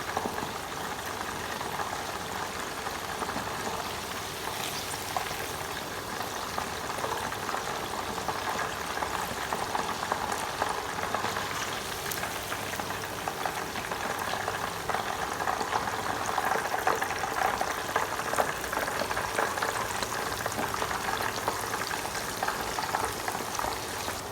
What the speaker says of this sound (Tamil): இது அரைவாசி தான் பொரிஞ்சிருக்கு, ஏன்னா நாங்கள் திருப்பி இதை பொரிக்க போகிறோம்